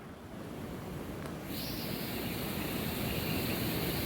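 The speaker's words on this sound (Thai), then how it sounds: "โอ้น้ำไหลแรงมาก ๆเลยครับ" Strong water rushes in a steady, loud roar that swells slightly at Huai Kradon Reservoir, Wang Hin District, Sisaket, Thailand, with no voices over it.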